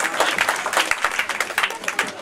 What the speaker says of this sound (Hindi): तालियां शामिल कर दीजिए वरना निजामती होती रहेगी।